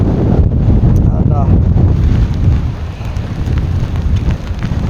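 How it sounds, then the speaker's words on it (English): Strong wind and rain batter a tidal shore on the River Foyle at low tide, roaring as a loud continuous rush of buffeting gusts right against the microphone. "the wind's hitting me in the face, the rain's hitting me"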